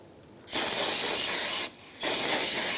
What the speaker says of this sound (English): you're going to want to clean that off with some brake clean